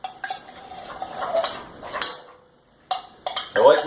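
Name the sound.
utensil banging on cast iron pan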